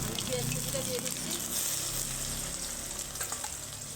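Chopped onion hits hot oil already holding dried red chilli and chopped ginger for a flattened-rice pulao, giving a bright, steady sizzle and fry that continues throughout, close and fairly quiet, with faint background voices.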